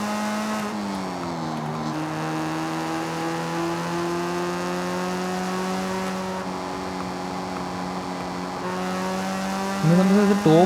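A turbocharged Honda Civic's engine holds a loud, steady drone with a brief pitch shift early on, then revs up sharply near the end.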